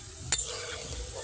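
Boondi batter drops frying in hot oil, a faint steady sizzle opened by one sharp clink of a utensil, close and quiet.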